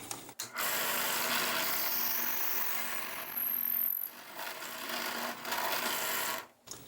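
A drill whines steadily as it bores into a wooden pen blank, pausing briefly partway, then grinding on before stopping.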